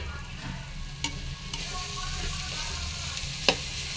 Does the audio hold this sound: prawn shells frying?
yes